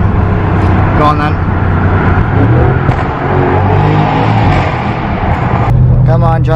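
An Audi RS6 with a Milltek exhaust roars loudly in a tunnel, its engine droning and revving continuously with people talking over it.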